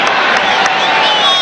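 Football stadium crowd in New England cheering a Patriots third down conversion against the Dolphins in 1994, a broad, steady roar with scattered whoops and claps, likely under broadcast commentary.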